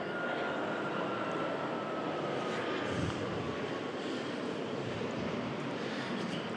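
An airplane flies overhead during an outdoor literary seminar in Key West, Florida, its steady broadband engine roar filling the whole stretch at constant loudness.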